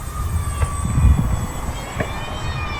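Apprentice STS 1.5 RC plane cruising at half throttle over a lake, a thin steady motor whine heard from a distance under faint wind rumble.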